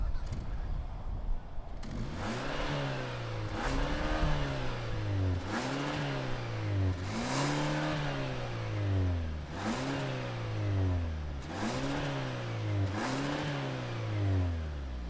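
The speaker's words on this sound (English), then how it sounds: "let's fire up this K5 GT and hear what it sounds like." A 2022 Kia K5 GT engine cranks to life, then revs again and again in a regular rhythm, each rise in pitch sweeping up and dropping back to idle, close and loud.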